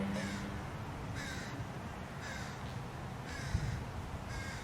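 A crow caws repeatedly in a garden, with five bursts of harsh calls spaced about a second apart over steady outdoor background noise, fairly close and clear.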